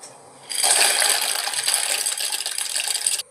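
Dry macaroni pours into a pot of boiling water with a sudden rattling, hissing rush after a short quiet start, the bright clatter and bubbling holding steady for about three seconds before cutting off.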